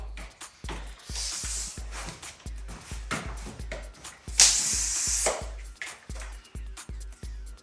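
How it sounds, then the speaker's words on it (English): A hand pump inflates the tyres of an E MONO electric urban bike with regular push strokes, each one a short thump followed by a hiss of air, close and steady, plus one longer spray of air. "We just need to we might just put some air in the tyres now."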